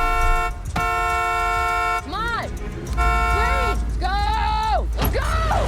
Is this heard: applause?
no